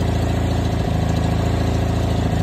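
The 16 HP 782cc Onan engine on a 1989 John Deere 316 lawn tractor runs at a steady idle, loud and close, with a constant low throbbing rumble and no talking.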